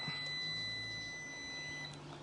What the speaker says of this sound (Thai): พอกดออนสวิตช์นะครับเสียงดังปี๊บนะครับ